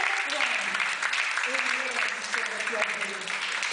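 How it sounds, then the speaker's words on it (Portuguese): A church congregation claps steadily in a close, reverberant room, the dense clapping running throughout with voices faintly mixed in. "Aplaude o Senhor, querido."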